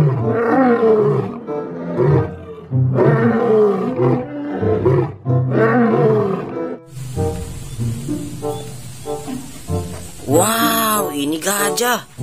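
A lion in the Jurassic World Evolution 2 video game gives several long, loud, full-bodied roars in a row, followed by lower grunting rumbles and a final rising, strained roar, with no talking over it.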